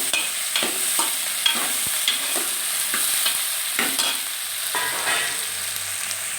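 Okra and tomatoes frying in hot oil with curry leaves, a bright close sizzle broken by repeated scraping stirs of a spatula against the pan.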